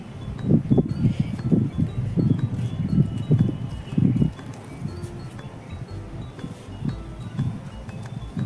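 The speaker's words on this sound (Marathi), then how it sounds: "बघू शकता हवा किती जोरात चालू आहे." Strong gusty wind buffets a microphone outdoors, rumbling in loud low bursts while clothes that were hung on a line without clothespins are blown down.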